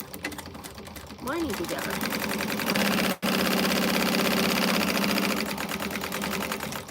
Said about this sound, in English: Let's get her sewn on.